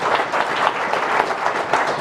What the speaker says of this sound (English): So a big round of applause for everybody.